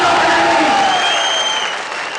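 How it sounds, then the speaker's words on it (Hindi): Audience applause at an anniversary event, a dense sustained burst of clapping that fades slightly toward the end, with faint tones ringing through it. "ऐसे रियल स्टार के लिए साहब एक बार जोरदार रियल तालियां बजा दीजिए"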